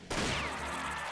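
Dense, rapid gunfire from a flood of bullets in the video game Fuga: Melodies of Steel: a sharp onset followed by a continuous, loud rattling barrage that holds steady to the end.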